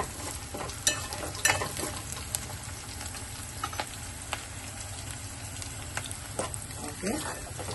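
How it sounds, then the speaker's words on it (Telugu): Chili and onion sizzle in a pan for chicken curry, a steady close frying hiss with occasional stirring clatters and scrapes, while a voice speaks faintly under it. "మిర్చి ఉల్లిగడ్డ అయితే ఫ్రై అయిపోయింది"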